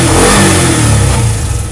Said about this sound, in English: Make sure it's in neutral, crank it up, and just starts right up.